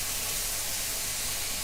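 Meat browning in a pan gives a steady, dense sizzle with fine crackle throughout, close and fairly loud, with no talking.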